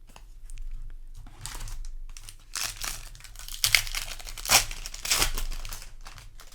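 A Magic: The Gathering Final Fantasy play booster pack is torn open, giving crinkling foil wrapper noise in several rustling bursts, close by and alone without talk.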